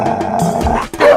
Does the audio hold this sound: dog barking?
yes